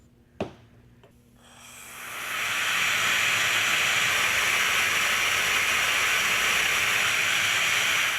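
Compressed air hisses through an air amplifier regulated to 40 psi: a sharp click, then a loud steady broadband hiss that swells over about two seconds and holds at full strength.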